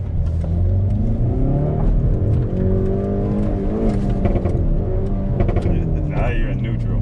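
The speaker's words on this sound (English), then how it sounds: "N mode, and let's give it a tiny bit of gas." A 2019 Hyundai Veloster N in N mode revs in neutral, engine pitch climbing and falling in several loud, close pulls as people talk over it.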